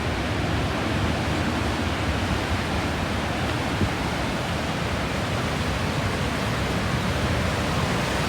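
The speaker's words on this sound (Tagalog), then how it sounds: "Ito yung falls doon." Niagara Falls at night on the USA–Canada border, a dense, continuous roar of falling water that stays loud and even from start to finish with no talk.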